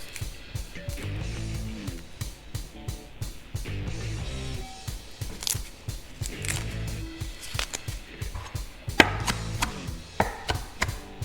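A knife chops kale on a cutting board in quick bursts of sharp knocks, irregular rhythm with short pauses between runs, close and fairly loud.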